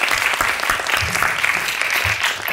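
An audience claps steadily for a cameraman who has just been introduced on stage, with dense, sustained applause at full volume and no speech.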